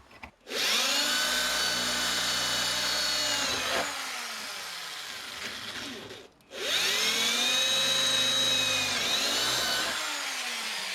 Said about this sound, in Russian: И сверлим ответные отверстия.